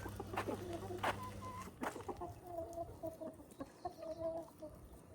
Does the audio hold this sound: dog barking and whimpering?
no